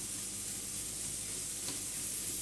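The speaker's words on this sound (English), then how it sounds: "we're just going to cook this down a little bit" Food cooking down in a pan for a healthy family dinner, a steady close sizzle and frying hiss running continuously with no talk.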